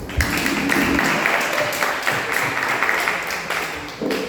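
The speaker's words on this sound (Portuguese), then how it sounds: "Muito bem, palmas" Applause at a church gathering, an audience clapping continuously for a few seconds, dense and fairly loud with slight swells throughout.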